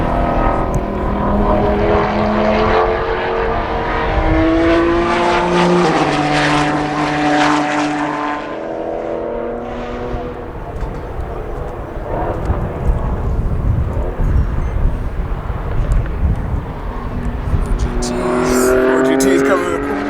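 GT race cars at the Velocity Invitational roar past a corner, loud layered engine notes sweeping up and down in pitch as they pass close by, with people talking over the noise.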